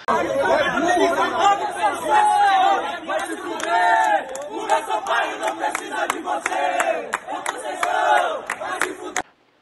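Santa Cruz football supporters confront their coach, a dense crowd of overlapping shouting voices and chanting close by, with sharp claps or bangs punctuating the din before it cuts off abruptly.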